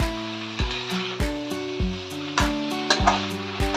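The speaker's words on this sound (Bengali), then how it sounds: "আমি মশলাগুলো ফুলকপির সাথে কষিয়ে নিচ্ছি।" Spices being sautéed with cauliflower in a pan, with a steady sizzle under repeated spatula scrapes and stirring knocks at a regular rhythm, close and moderately loud.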